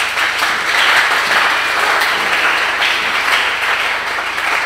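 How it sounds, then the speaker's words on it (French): A church congregation breaks into loud, sustained applause, dense clapping filling the room evenly from start to finish. "Est-ce que tu peux venir par des acclamations?"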